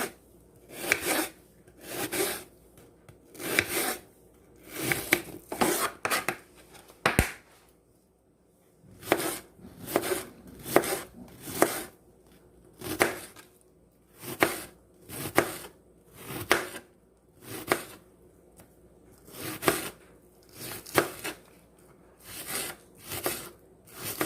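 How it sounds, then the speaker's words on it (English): A knife chops tomatoes repeatedly on a cutting board in rhythmic bursts of short, crisp strokes, with a brief pause partway through and no talking. "we'll start the chopping"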